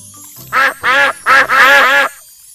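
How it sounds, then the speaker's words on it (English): Four loud cartoon duck quacks from a Peppa Pig video game come in quick succession, close and clear, with short gaps between the first three and a longer run at the end. "You fed all the ducks."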